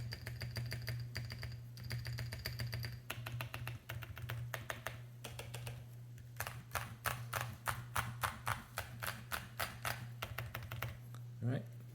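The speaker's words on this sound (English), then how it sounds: "Alright, I'm gonna do a type test." Steady typing on an MKC75 75% keyboard fitted with Gazzew U4Tx switches, a dense run of clacky keystrokes that breaks into sharper, evenly spaced presses later on, all over a constant low electrical hum.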